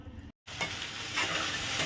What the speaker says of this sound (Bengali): ঢ্যাঁড়স ভাজা বসিয়ে দিয়েছি